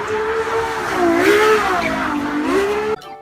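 A toy sports car gives off a loud, close engine-revving effect that rises and falls in pitch for about three seconds with squealing, racing tones, then cuts off abruptly.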